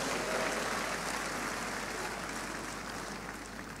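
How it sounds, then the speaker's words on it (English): Church congregation clapping together at a healing service, a dense, continuous patter of hands heard from within the hall, moderately quiet and steady. "Clap for Jesus."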